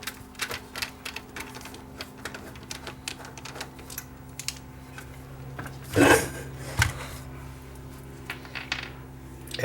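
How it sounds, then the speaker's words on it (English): Screws being removed from a Yamaha RX-V470 AV receiver: close, rapid small metallic clicks and ticks from a screwdriver on the chassis, with a louder clatter around the middle as a part shifts. "So remove the 4 screws to hold the connectors in."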